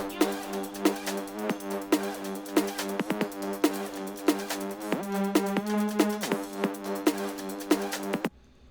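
A dry, bright synth lead plays a fast rhythmic melody of short repeated notes with some sliding pitch, unaccompanied and clean, ending abruptly.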